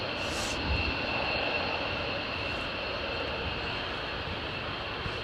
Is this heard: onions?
no